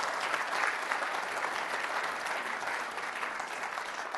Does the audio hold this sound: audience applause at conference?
yes